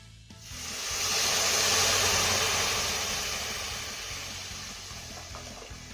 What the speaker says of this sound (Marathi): आता यामध्ये आपल्याला एक लिटर दूध आपण गरम करून घेतलं होतं यात घालायचं आहे